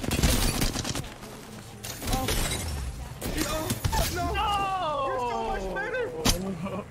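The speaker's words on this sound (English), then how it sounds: "Charge rifle, baby." Charge Rifle shots in the video game Apex Legends during a ranked endgame fight, sharp loud bursts with a shattering crack over busy combat noise while players talk excitedly throughout.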